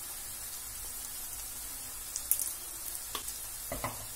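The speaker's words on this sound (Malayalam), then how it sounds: "ഇതെല്ലാം കൂടി ചേർത്തൊന്ന് വഴറ്റുക." Okra masala with a pinch of asafoetida sautés in a pan, a soft hiss broken by a few scraping stirs and crackles toward the end.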